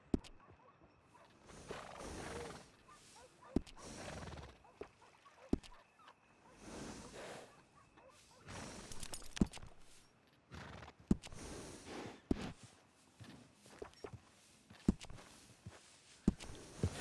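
Horse in Red Dead Redemption 2 on Xbox One, soft hoof clops, snorts and shuffling in bursts with sharp clicks and thumps between, fairly quiet and close, no talk.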